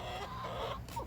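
Backyard chickens cluck softly and steadily at close range, a low continuous murmur of hen calls with no voices over it.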